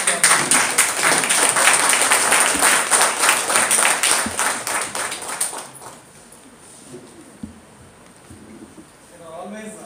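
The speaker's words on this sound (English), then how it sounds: "First of all, a big round of applause." Audience applause after a lecture at a live event, a dense burst of clapping that runs for several seconds, then thins out to a few scattered claps and quiet room tone.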